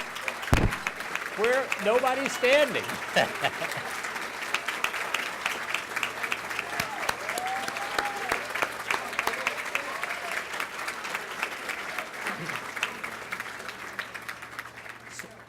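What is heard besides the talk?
audience applause for SWIM volunteers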